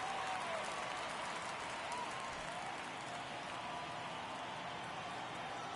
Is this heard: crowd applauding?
yes